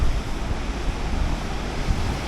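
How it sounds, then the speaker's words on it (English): Ocean waves break and surge at a rocky natural pool on the coast of Tenerife, a dense, steady roar of surf mixed with wind buffeting the microphone. "See the waves?"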